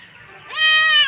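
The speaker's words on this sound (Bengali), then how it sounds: "ছাগলটা ধরা দিচ্ছে না।" A goat bleats while someone tries to catch it for a bath. After a short, quiet start, one loud, drawn-out bleat fills the rest of the moment, close by.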